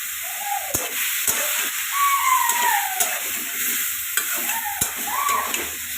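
Red amaranth greens (lal shak) frying in a pan, a steady sizzle with a scraping spatula stirring and occasional clinks against the pan, with no voices.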